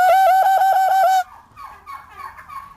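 Turkeys gobble loudly and close by, a rapid pulsing burst of about six warbling notes, then quieter scattered bird calls follow.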